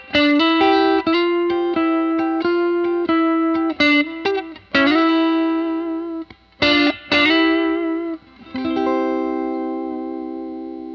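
A Boss '63 Fender Reverb pedal, meant to mimic a 1963 Fender reverb unit, colours a guitar played in strummed chords and single notes with a springy, washy tail; the guitar is loud and steady throughout, with no talking.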